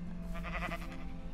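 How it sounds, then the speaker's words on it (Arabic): A single sheep bleat from the Minecraft video game, a short wavering cry heard clearly on its own. "هي خروف"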